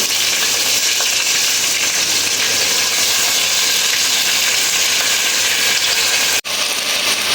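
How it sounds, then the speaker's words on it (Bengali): Washed rice tipped into a pan of frying onions for meat khichuri, giving a steady, loud sizzle and hiss that runs unbroken apart from one brief dropout near the end. "এবার চালটা কিন্তু আমি খুব ভালোভাবে ধুয়ে রেখেছিলাম এটা দিয়ে দিব"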